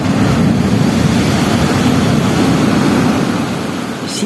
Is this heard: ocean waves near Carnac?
yes